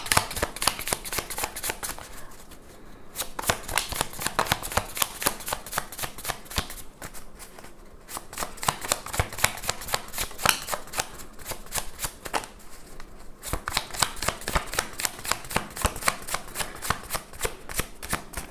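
A deck of tarot cards is shuffled over and over, riffling in fast repeated bursts broken by a few brief pauses, close and fairly loud with no voices.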